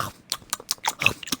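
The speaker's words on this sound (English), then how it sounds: "There's a munching sound." Crunchy munching and biting sounds, a run of short chewing bursts in quick irregular succession, close and fairly loud with no talk over them.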